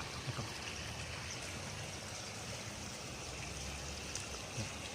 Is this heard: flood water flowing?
yes